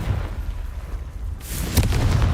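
Bombarda and Confringo explosion spells cast in the video game Hogwarts Legacy, a loud booming blast with rumbling low end, then a bright crackling burst about halfway through.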